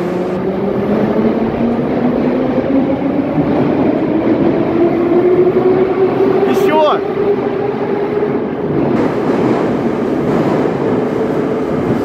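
A two-car commuter electric train heading toward Medvedkovo passes close by with a loud, continuous rumble and a rising motor whine, plus a brief high squeal midway.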